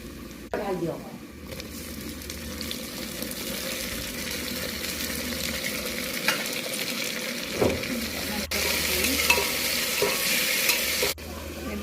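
Chopped tomatoes and onions fry in a pan for tomato rice, with a constant close sizzle and the scrape of stirring throughout, while a voice talks over the cooking at moderate loudness.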